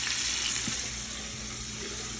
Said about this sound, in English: I got my chicken back there frying.